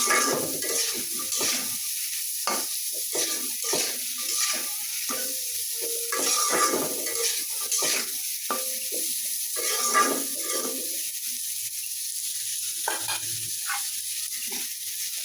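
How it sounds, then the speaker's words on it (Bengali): Spices sauté in a frying pan with a steady hiss. A spatula scrapes and stirs through them in repeated close strokes, some louder than others, and no one speaks. "এখন সব মশলা দিয়ে আমি কষায় নিব এইভাবে।"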